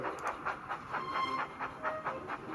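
A small steam engine puffs softly and rhythmically, a series of gentle chuffs spaced evenly with a faint background hiss, quiet and unaccompanied by voices.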